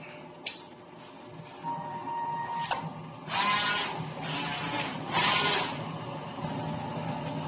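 A DTF printer runs a nozzle test: a soft mechanical whir, then a few clicks, then two louder, longer swishing passes of the print carriage, close by with no talking.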